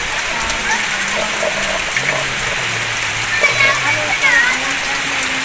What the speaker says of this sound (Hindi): अभी बारिश का जो रफ्तार है बहुत तेज़ी से है